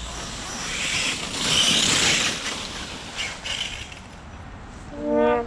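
An FTX RC car with a failing spur gear runs with a noisy, whirring drivetrain, rising and falling over several seconds, followed by a brief tonal whine near the end, with no talking.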